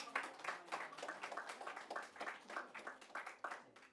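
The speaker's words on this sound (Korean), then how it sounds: "박수 한번 다시 합니다." Light, fairly quiet applause from a small church congregation during a Sunday service, with a steady patter of claps and slight swells in intensity.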